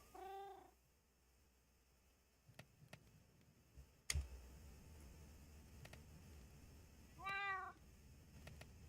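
A cat meows twice in a Minecraft-style game world, each a short wavering cry, the first at the opening and the second near the end, with faint ticks and a sharp click in between and no talking.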